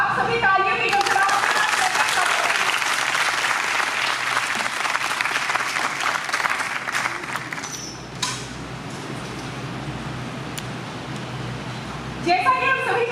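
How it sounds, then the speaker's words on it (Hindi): Loud, sustained audience applause at a literary festival, dense clapping for about eight seconds that fades to a softer patter and murmur, with a brief return of clapping near the end. "आप सभी तालियों की गड़गड़ाहट"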